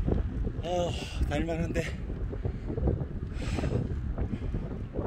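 Wind buffets the microphone in a steady low rumble while cycling around Bitodo island by the sea, continuous throughout with someone talking over it.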